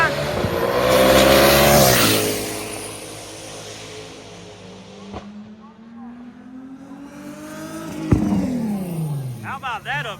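F-body cars in a stick shift street drag race roar past with engines revving hard through gear changes, loud pulls fading then new engines rising, with crowd commentary over the noise.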